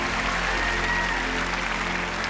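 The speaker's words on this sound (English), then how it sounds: "Please give Kevin a big round of applause as he heads back to his seat." Audience applause in a large theatre at the Royal Variety Performance at the Royal Albert Hall, London, as a volunteer returns to his seat; a dense, steady wash of clapping that carries through the whole short stretch.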